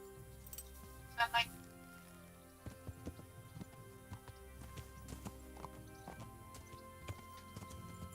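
Horse hooves clip-clop in the medieval role-playing game Kingdom Come: Deliverance, a series of soft, irregular steps under game ambience, with a brief louder burst near the start.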